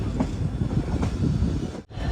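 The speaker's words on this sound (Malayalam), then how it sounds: "253 കിലോമീറ്റർ യാത്ര ചെയ്ത് ട്രെയിൻ ഇതാ അഗർത്തല റെയിൽവേ സ്റ്റേഷനിലേക്ക് എത്തിക്കൊണ്ടിരിക്കുകയാണ്" The Silchar to Agartala Express rumbles steadily as it pulls into Agartala railway station, a close, heavy rolling clatter of wheels and carriages with no voices over it.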